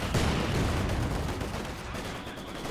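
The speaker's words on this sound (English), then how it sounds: "Mortar may get a shot on him." Mortar and battle fire in the strategy game Company of Heroes 2, a dense, rumbling, continuous wash of distant explosions and gunfire without clear separate shots.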